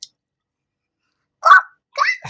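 A young child imitates a dog barking at home, giving two short voiced bursts after a pause, close and fairly loud.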